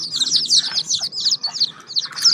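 A brood of sixteen freshly hatched chicks peeps in rapid, overlapping high chirps, close and loud, with a steady busy chatter that barely pauses.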